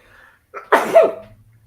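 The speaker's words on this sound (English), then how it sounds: "still sneezing for all the concrete dust at work" A single sharp sneeze, brought on by concrete dust, with a short intake of breath before it, close and loud, followed by a faint low hum.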